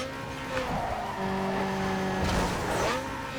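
Engines of several racing cars in the video game Need for Speed Underground 2 drone steadily with harmonic whines, rising and falling as they close in, with tire squeal and scraping bursts partway through; no talking.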